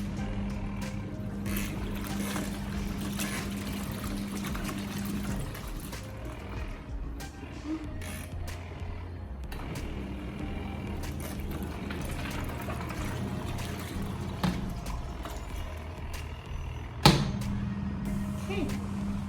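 A mini portable washing machine with spin runs on a timer, giving a steady low motor hum with sloshing water, a few clicks and a sharp knock near the end, fairly quiet overall.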